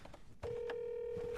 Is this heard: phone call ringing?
yes